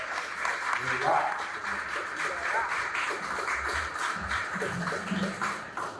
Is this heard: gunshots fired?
no